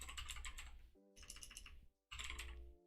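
Keys clatter on a computer keyboard in three quick bursts of close, light typing separated by brief pauses, with no voice over it.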